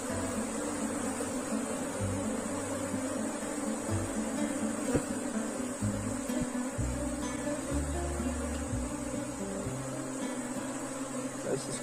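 Honeybees hum with a steady, dense buzz from an opened beehive during cleaning, joined by low thumps and scrapes from handling the hive frames.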